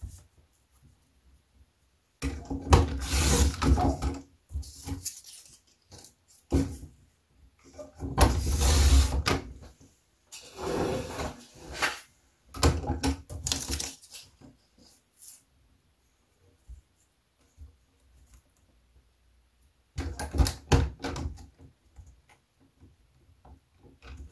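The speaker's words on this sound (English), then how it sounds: "I'm cutting these remaining pieces into 1-inch strips." Paper pieces being cut into 1-inch strips for an 8x8 theme pack, heard as bursts of crisp cutting and handling noise spread across the clip with quiet gaps between, fairly close and without talk.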